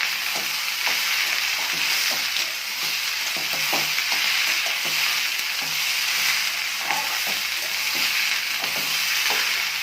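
Taruli curry with fried carom seeds fries in a pan under a constant hiss and sizzle, while a spoon scrapes and taps the pan in a busy, regular rhythm.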